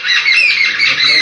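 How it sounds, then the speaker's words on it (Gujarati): A flock of jungle babblers, the seven sisters, calls together in a harsh, overlapping chatter of nasal squawks, loud and close in one continuous burst. "લરેરા જે 7 નાર કે ને એક સાથે અવાજ કરે, સેવન સિસ્ટર, એ દેકારો કરે."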